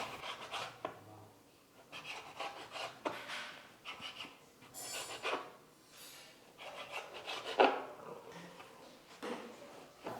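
Soft slices of bread cut into small pieces on a board at home while making pizza: quiet, repeated rasping strokes of the knife in an irregular rhythm, close and faint, with no talk.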